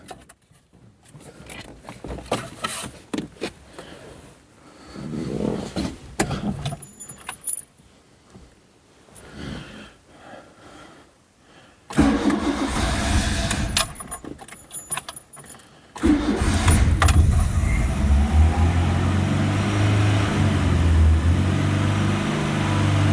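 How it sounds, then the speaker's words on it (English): An 80s hot hatch with a Porsche system, a barn find, catches after a couple of cranking attempts and settles into a loud, close engine note from about sixteen seconds, held steady with throttle blips. "playing with the throttle"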